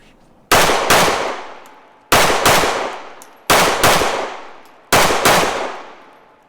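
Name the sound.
SIG Sauer P365 Fuse pistol firing controlled double shots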